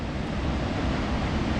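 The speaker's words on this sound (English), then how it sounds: "So you can see that the surf is still really high." High ocean surf at Depoe Bay on the Oregon coast roars as a steady, dense wash of breaking waves, loud and continuous with no talk.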